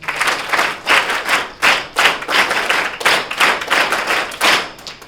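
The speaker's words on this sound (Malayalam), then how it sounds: "ഒരു കയ്യടി നിങ്ങൾക്ക് എല്ലാവർക്കും വേണ്ടി." Audience claps for prize winners at an award ceremony and fest, a close, loud burst of applause pulsing in uneven waves with no talk over it.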